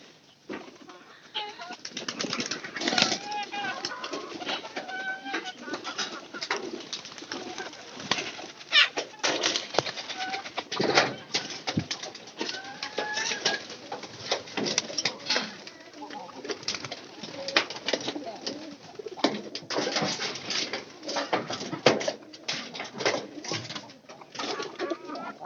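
Pigeons cooing in a loft during rainy days, repeated soft throaty coos from several birds close by, with occasional wing flaps and faint talk in the background.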